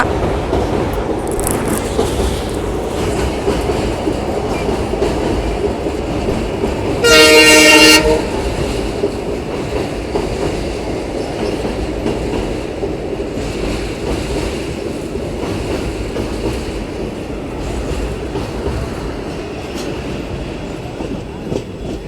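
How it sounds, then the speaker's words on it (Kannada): A passenger train on the Ballari to Mantralayam line rolls slowly along the tracks past Agri station with a steady rumble and faint clatter, and a horn blares briefly partway through. "ಸ್ಲೋ ಆಗಿ ನಮ್ಮ ಟ್ರೈನ್ ಹೋಗ್ತಾ ಇದೆ ಅಗ್ರಿ ಒಳಗಡೆ"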